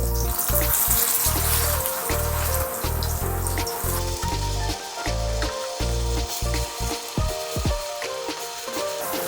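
Plantain slices fry in hot oil in a pot, sending up a loud, steady sizzle and crackle that carries on throughout, with the bubbling turning more broken and spattery toward the end as the pieces are flipped.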